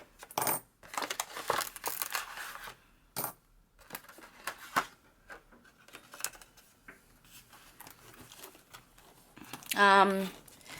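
Loose coins clink and jingle as they are dropped while cash envelopes are sorted and receipts cleared out, a brief shimmering rattle near the end after scattered paper handling, rustles and light taps at close range.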